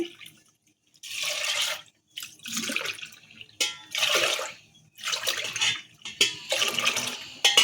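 Water is poured into a pot in several separate bursts with short pauses between them, splashing close by.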